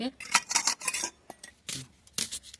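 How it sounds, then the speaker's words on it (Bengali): A knife chops onions in a home village kitchen in quick irregular bursts of sharp taps and scrapes on a hard surface, with short pauses between runs. It is fairly quiet and close, with no talk. "এবার পেঁয়াজগুলো আমি কেটে নিচ্ছি তাকে এইভাবে কেটে নেব"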